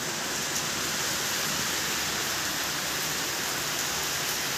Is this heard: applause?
no